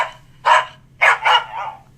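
A dog-bark sound effect plays from a phone app on a Windows Phone 8: a single bark, a short pause, then two quick barks and a fading yelp, loud and close with no talk.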